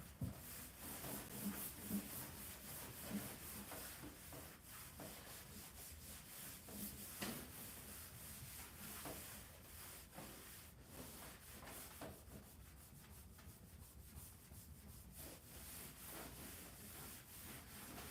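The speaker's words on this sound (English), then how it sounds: "now I gotta clean this again with the WD-40" A rag soaked with WD-40 rubs and scrubs along a section of model railway track. The rubbing is faint and continuous, with irregular scraping strokes and no talk.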